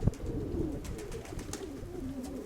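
Pigeons coo softly in a low, rolling murmur, fairly faint and close, with no talking.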